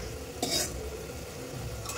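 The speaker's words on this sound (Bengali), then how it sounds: "মশলাটা একটু ভালো মতো ভেজে নেব, কষিয়ে নেব" Ginger-garlic spice masala frying in oil in a karahi, a soft continuous sizzle with a brief sharp spatula scrape against the pan, close by and without speech.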